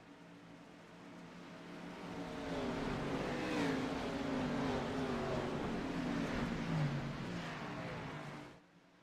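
A pack of Xfinity Series stock cars at Daytona International Speedway roars up to speed at the green flag, engines swelling into a sustained loud, rising drone with shifting pitch before fading out at the end.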